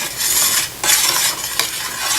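Kumquat marmalade boils hard in a pot, a loud dense bubbling roar interrupted by brief stirring scrapes, close up with no voices.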